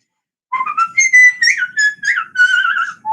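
A person whistles a song alone, a clear, close melody of quick bouncing notes with short breaks between phrases, starting after a moment of silence.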